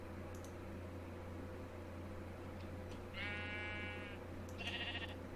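Sheep in the video game Minecraft Skyblock give two short bleats, faint and alone over a steady low hum.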